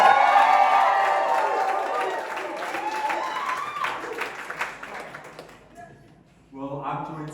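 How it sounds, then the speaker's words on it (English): A live studio audience at a television show applauds and cheers in a dense burst that fades over several seconds before a voice begins speaking. "Give yourselves a big round of applause."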